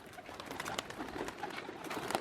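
Pigeons coo softly in a low, steady murmur, several birds overlapping close by with faint shuffling underneath.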